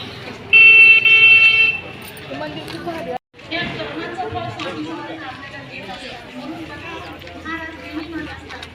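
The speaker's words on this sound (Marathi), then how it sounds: "हा ना ते गाड्यांचं किती गर्दी बापरे" Crowded road traffic at a Datta Jayanti festival, with a sustained vehicle horn blast early, engine hum and general bustle under loud, close chatter of people talking.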